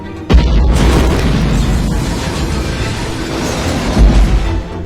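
A cartoon bomb explosion blasts suddenly, a loud deep boom followed by a long rumbling roar that fades, with a second swell near the end.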